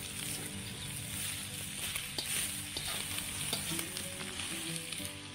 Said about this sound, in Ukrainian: Цибулька чуть-чуть протушиться.